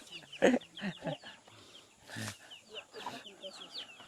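Chickens cluck in short bursts close by, with background voices talking over a busy outdoor scene.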